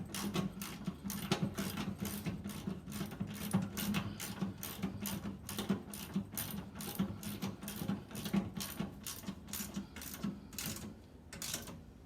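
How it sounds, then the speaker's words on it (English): A ratchet wrench clicks rapidly and evenly as bolts go back into a Clausing 5900 series lathe during maintenance, the close, quiet ticking running steadily throughout with no talk. "We'll take and put our bolts back in here."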